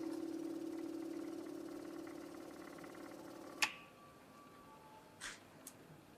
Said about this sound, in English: I'm going to activate the pump.